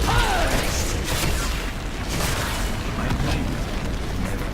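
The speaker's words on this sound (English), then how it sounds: "Ragnarok's dropping a good lava wave there" Ragnaros unleashes his lava wave in Heroes of the Storm, a loud, steady rumbling roar with booming bursts that rolls on continuously, dense and close, over game noise.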